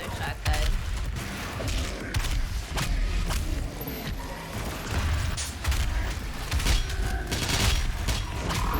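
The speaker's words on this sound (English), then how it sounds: "Regular shotgun." Repeated shotgun blasts in a video game. Close, punchy booms come in irregular bursts over mechanical clatter, and a player talks now and then.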